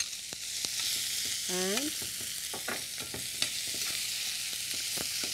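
Onions sizzle in hot oil with popping mustard seeds and golden urad dal, a steady close frying hiss with scattered crackles and a few stirring scrapes, under a brief rising vocal sound.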